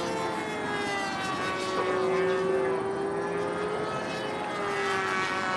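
An E-flite Scimitar Carbon-Z radio-controlled plane flying a loop overhead, a steady high electric motor whine that sweeps slowly in pitch as it turns, moderately distant and continuous with no talking.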